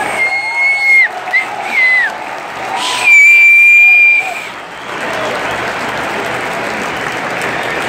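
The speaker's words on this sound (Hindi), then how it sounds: "ताली बजाकर अभिनंदन करते हुए आम जनता" A large cricket crowd at Eden Gardens applauding and cheering, with whistles and horn-like tones cutting through, a commentator talking early on, then a broad steady roar of clapping.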